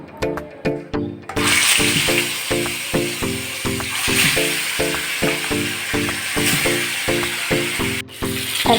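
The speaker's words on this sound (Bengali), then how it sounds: "একদিকে মাছটা ভাজা হোক" Silver carp fries in oil in a pan, a loud, continuous sizzle that starts abruptly and runs over a steady rhythmic pulse.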